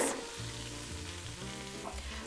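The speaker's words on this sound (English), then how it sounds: "I don't want to burn the butter, so let's get in the onions" A sweet onion fries in butter: a soft, steady sizzle holds evenly throughout, with a low hum beneath and a faint scrape or clink now and then. It stays quiet and continuous, and no one speaks.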